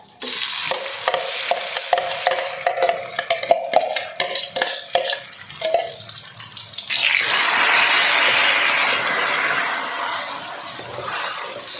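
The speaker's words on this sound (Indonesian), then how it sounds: "Kalau menumis bumbu untuk nasi goreng ini harus benar-benar matang ya." Spice paste for fried rice stir-fried in hot oil in a wok, with clattering spatula stirs for several seconds, then a loud, steady, close sizzle that fills the rest of the stretch with no voices.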